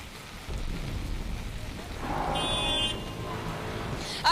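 Heavy rain pours steadily in Ahmedabad with a low rumble of thunder, a dense, continuous wash of sound heard outdoors without talk.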